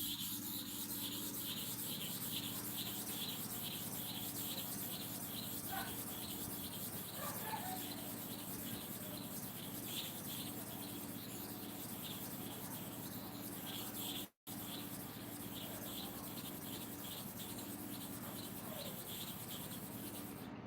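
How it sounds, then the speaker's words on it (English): Clipper blades being sharpened by hand, rubbed slowly to and fro under light pressure, giving a steady quiet scraping hiss that runs on continuously with one brief break. "Watch, I'm sharpening here."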